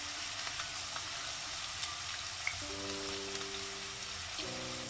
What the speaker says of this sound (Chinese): 煎至一面金黄之后，给它翻个面，再煎另一面